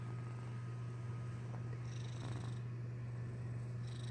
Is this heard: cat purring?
yes